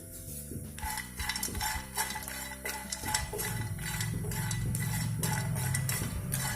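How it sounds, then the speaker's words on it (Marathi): Coconut roasting in a pan on the stove for chhole masala, a spoon scraping and clinking against the metal in an irregular stirring rhythm, with a soft sizzle building underneath. "हे खोबरं आपल्याला भाजून घ्यायचंय"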